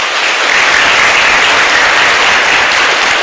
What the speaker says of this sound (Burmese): ကောင်းလိုက်တာကဲလက်ခုပ်တီရပြီပါ